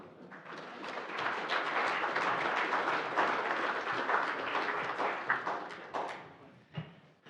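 Conference audience at an infrastructure funding panel claps warmly to welcome a speaker, applause swelling to a steady burst, then thinning into scattered claps and a few footsteps or taps as it fades.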